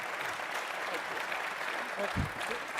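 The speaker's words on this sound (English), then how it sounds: "Let's give them a round of applause, everybody." An audience applauds after a panel discussion at a defense forum, a steady wash of clapping under a speaker's closing words.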